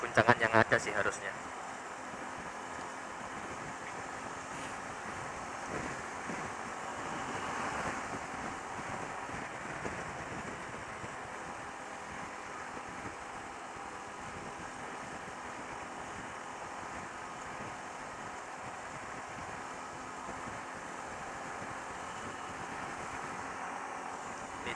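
Steady wind buffeting a DJI Osmo Action 3 action camera while riding at 60 km/h, a broad continuous roar that stays fairly even throughout, with a short louder burst at the start.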